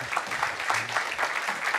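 Conference audience at a climate-futures event applauding after a speaker's introduction, a brief, soft, steady patter of many hands heard from a distance.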